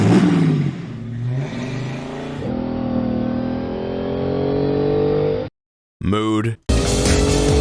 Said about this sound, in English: like a big snarly, like I specifically went for like a truck engine for that